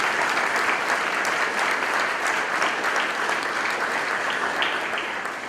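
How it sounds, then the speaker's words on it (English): Steady, dense applause from a large audience at a security officer graduation ceremony, honoring graduates' families and friends, loud and continuous with no talking, tapering slightly at the end. "let's give a little applause for the family and friends who have supported you"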